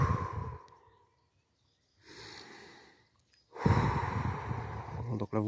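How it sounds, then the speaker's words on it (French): Breathy exhales during a guided breathing exercise come in two or three soft, airy bursts separated by near silence, the last one longer and louder. "Allez, on inspire, on expire."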